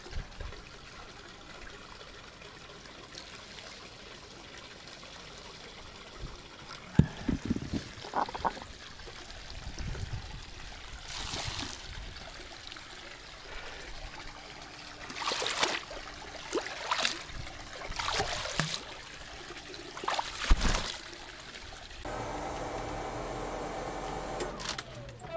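CV700 pool chemical is poured from a container into pool water in several short trickling bursts, with quiet pauses and faint background noise between pours.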